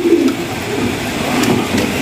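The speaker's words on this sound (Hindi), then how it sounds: "बहुत खूबसूरत कबूतर है जो आपको मैंने दिखाए हैं" Soft pigeon cooing, low and murmuring, repeating steadily through the clip at close range.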